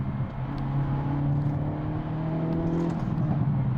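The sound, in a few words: Hyundai i30 Sedan N car driving on rough road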